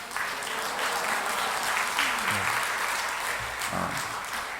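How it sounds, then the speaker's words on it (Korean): A church congregation at a Wednesday evening service claps in welcoming applause for a visiting pastor, steady dense clapping filling the room with some voices mixed in beneath. "우리 이지수 목사님 이제 나오실 때 우리 환영의 박수로 할렐루야 하겠습니다."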